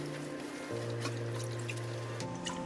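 Water runs steadily from a tap as fridge parts are rinsed at a sink, a soft continuous flow with faint splashing, no talking.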